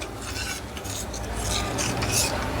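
A spoon stirring custard mixture through a pot of boiling milk, with a continuous close scraping and swishing against the pot and a faint bubbling hiss underneath, no voices.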